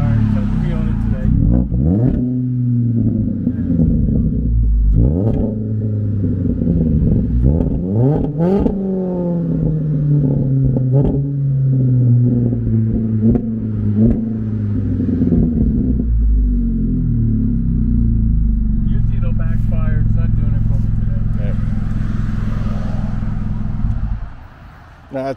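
A 2012 Hyundai Veloster engine revs repeatedly, rising and falling in a loud, rumbling, close drone with crackling pops and backfires. Voices can be heard talking over parts of it.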